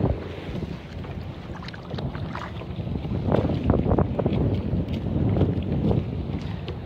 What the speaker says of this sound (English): Wind kind of picking up now